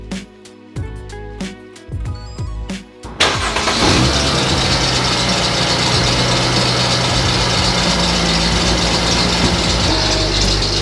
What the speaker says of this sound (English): I made a video how I'm fixing the squeaky noise coming out of that engine